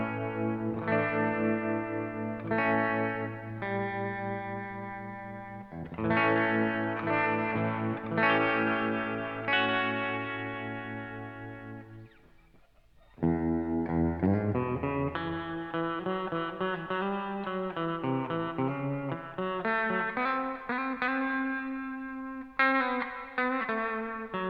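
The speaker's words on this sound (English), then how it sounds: "That's a very nice, very, very shimmery effect." Electric guitar played through a MayFly Terrain Deluxe reverb pedal set to a shimmery sound, sustained chords and notes ringing with lush, bright trails, a short dip mid-phrase before new chords swell back in.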